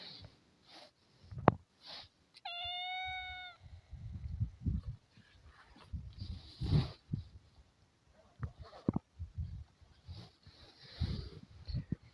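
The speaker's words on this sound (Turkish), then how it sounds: "Bakayım ne kadar güzel bir kedisin sen ya." A cat at a carp-fishing camp in Malatya gives a single drawn-out meow amid quiet outdoor bumps and handling noises.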